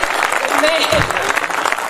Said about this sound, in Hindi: एक बार मुझे तालियों से अपनी समझदारी बता दीजिए।